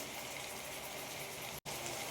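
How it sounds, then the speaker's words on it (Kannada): Water gushes steadily into a cooking pot for a North Karnataka-style stuffed brinjal curry, a continuous broadband pour that briefly cuts out near the end before resuming. "ಇವಾಗ ನೀರು ಹಾಕ್ಕೊಳ್ತಾ ಇದ್ದೀನಿ"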